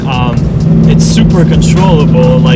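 Ford Mustang GT, a wrecked budget build, driving with a steady low engine drone that runs throughout under someone talking.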